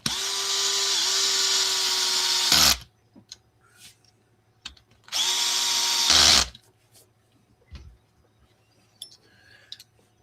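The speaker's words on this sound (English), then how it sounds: "I hear power tools." Power tools run in two sustained bursts of high, steady whirring, each lasting a couple of seconds and stopping abruptly, with small clicks and handling noises in the quiet gaps between them.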